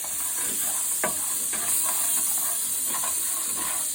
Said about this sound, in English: put a little bit pink salt actually, and the butter right here, just to stir a little bit